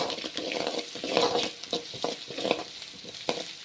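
Masala sizzles and fries in a wide pan while a spatula stirs and scrapes it in irregular strokes, close and fairly quiet, with soft crackling between the scrapes.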